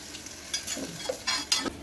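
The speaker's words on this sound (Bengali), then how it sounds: "আমি কিন্তু আলুটাকেও একটু ভেজে নিচ্ছি" Potatoes fry in a pan with a low sizzle under short scraping stirs of a utensil against the pan, close and intermittent, no voices.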